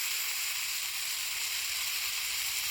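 Chopped tomato and ground spices sizzle in a hot pan for a duck egg curry, a bright, constant hiss that stays loud and even throughout.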